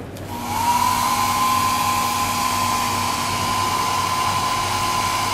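Homemade magnetic field radiation energy converter device, built with wire, an iron core, a breadboard and an LED strip, starts up and runs in a loud, steady electrical hum and whine that rises briefly, then holds constant and close.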